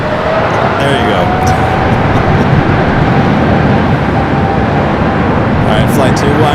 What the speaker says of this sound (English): flight 21 heading back to Paris. 777 to 300 ER rolling down to 24 left